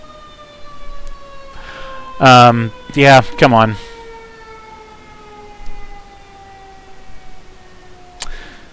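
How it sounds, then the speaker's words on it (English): Ambulance sirens passing along a street wail in long, steady descending tones that run under the whole clip, while a voice speaks briefly in the middle. "ambulances or sirens or something going by here"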